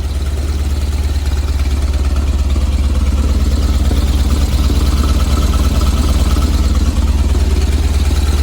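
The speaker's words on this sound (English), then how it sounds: "after it's warming up, it sounds like it's idled a little too high to me." VW engine with dual 34 carburetors idling a little high after warming up, giving a loud, steady, close-miked rumble with fast even clatter and no break throughout.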